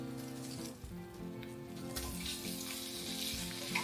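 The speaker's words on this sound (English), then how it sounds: "I want to add in my cabbage." Cabbage sizzles in melted butter with fennel seed in a skillet, a steady close frying hiss with a brighter burst partway through as it is stirred.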